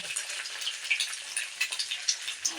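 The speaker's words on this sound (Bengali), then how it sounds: "ভালো করে একটু ভেজে নেবো একটু চুলার জালটা আমি কমিয়ে দিলাম" An egg fries in a pan over a lowered flame, giving a close, continuous sizzle. Quick little crackles and pops run through it from start to finish.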